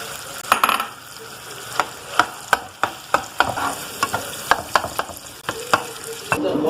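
Stirring and sizzling in a hot pan as tomato, nigella seeds, coriander and red chilli fry, with a steady frying hiss broken by repeated sharp scraping clicks of a spoon against the pan.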